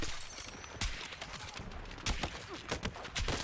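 Several spaced, sharp rifle shots from a sniper rifle in a first-person shooter on a battlefield map, moderately loud and crisp, with short pauses between cracks and no talking.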